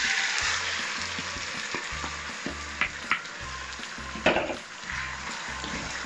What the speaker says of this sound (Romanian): împreună cu usturoiul, le călim aproximativ 2 minute